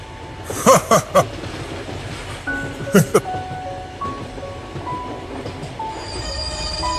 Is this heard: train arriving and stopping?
yes